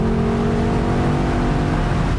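A Lexus LC500 convertible's engine, with the top down, revs and drones steadily with a loud, close, continuous growl and no voices over it.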